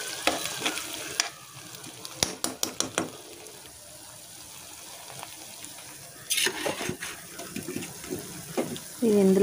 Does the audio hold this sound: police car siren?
no